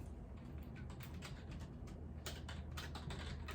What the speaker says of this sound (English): I'm typing, y'all.